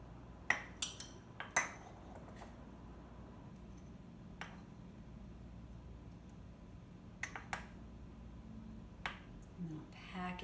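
Brown sugar being spooned into a half-cup measure and packed down with the back of a spoon: scattered soft taps and clinks of metal on the cup, quiet and close, with brief pauses between them.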